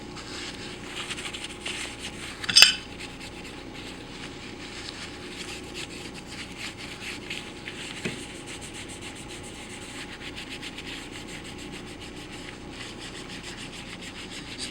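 Steady scrubbing on the atmospheric block top of a Pfeiffer vacuum pump during cleaning, a soft continuous rubbing hiss with one sharp scrape or knock near the start, fairly quiet and close, with no talking.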